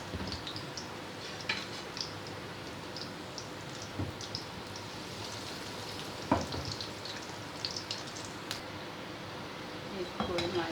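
Curry pakoras frying in hot oil, a constant fizzing crackle with scattered sharper pops, heard up close and steady throughout.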